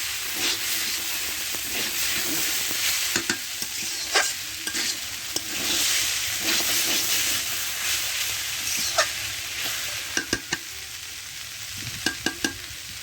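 Elephant foot yam, turnip and stalks stir-frying in a pan, giving a steady sizzle with scattered scraping clicks of a utensil and no talk.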